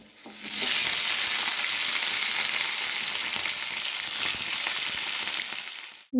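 Whole cumin seeds, dried red chilies and bay leaves fry in hot oil, giving a dense, steady sizzle that stays loud and even for several seconds before cutting off abruptly.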